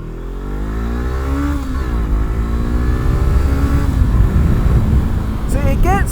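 A Honda CBR500R motorcycle accelerates on the road, its engine note rising in pitch through the gears under steady wind rush, fairly loud and close, with a rider talking over it.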